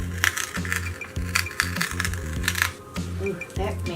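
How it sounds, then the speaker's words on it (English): Tape peels off a painted design in quick crackling pulls, each a short burst of tearing noise repeating close to the mic with brief pauses between. "so I'm going to start peeling"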